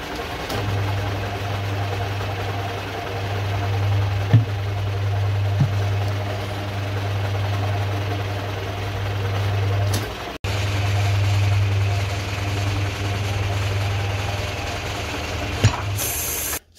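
A 2004 Subaru Impreza WRX STI, revived after five years sitting in a garage, idles steadily with a low constant hum and a faint ratcheting mechanical texture, broken by a brief dropout near the end.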